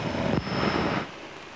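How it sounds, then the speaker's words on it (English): A light aircraft engine drones steadily through a long takeoff roll, a loud continuous propeller hum heard close with no voices over it. "It's another long takeoff roll."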